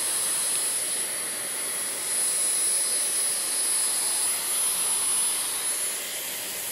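A Dyson Airwrap hair styler blowing while curling already-dry, thick hair: a loud, constant high-pitched whirring airflow with a thin steady whine, running unbroken throughout with no talk.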